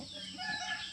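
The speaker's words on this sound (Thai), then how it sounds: "ตื่นมาก็ได้ยินแต่เสียงนกเสียงเป็ดเสียงไก่เฮือนบ่เก่ง" Chickens cluck softly in an open yard, a brief burst of fowl calls with no talking.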